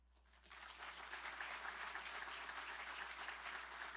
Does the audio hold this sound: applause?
yes